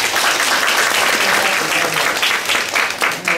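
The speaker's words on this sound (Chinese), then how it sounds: "让我们大家欢呼一下？" An audience at an education talk bursts into loud, close applause and cheering for a school principal, dense clapping that swells and pulses slightly toward the end.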